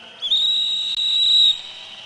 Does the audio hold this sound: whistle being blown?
yes